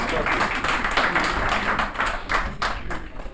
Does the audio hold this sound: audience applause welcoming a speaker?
yes